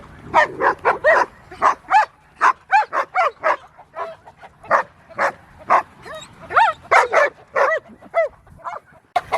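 Several dogs barking excitedly as they are let out, a rapid, steady run of close yips and barks with some whimpering, no talk over them.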